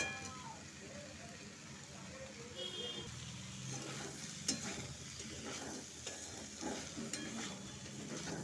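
Fried papaya pieces tipped into a curry of potato and chickpeas and stirred in the pan, giving a steady low sizzle with scraping stir strokes that grow busier partway through.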